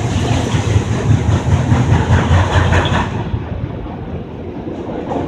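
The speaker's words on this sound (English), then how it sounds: "I'm watching this very long auto rack train." A long auto rack freight train rolls past close by, a steady loud rumble with clickety-clack wheel rhythm and rattling cars that eases slightly toward the end.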